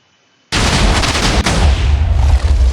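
TNT exploding in the Minecraft video game: one sudden, loud blast bursts in after a near-silent start and rolls on as a dense, sustained rumble, with a second jolt partway through.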